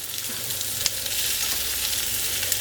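Lamb and feta burgers sizzle in a well-greased pan, a loud, even hiss of frying held close throughout with one or two faint pops and no voices.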